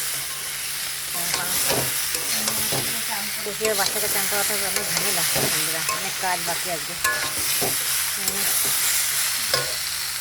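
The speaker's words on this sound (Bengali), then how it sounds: "পালং শাকের সবজিটা বসিয়ে দিয়েছি, পাঁচফোড়ন দিয়ে, শুকনো লঙ্কা পাঁচফোড়ন দিয়ে বসিয়েছি।" Spinach frying with panch phoron and dried red chillies gives a steady crackling sizzle in the pan, running continuously beneath a woman's close, chatty talk.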